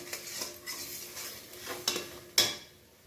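A mustard-poppy paste with turmeric and salt is stirred in a pan, soft scraping strokes and light clinks of a utensil against metal, with two sharper knocks near the end, quiet and close with no talking.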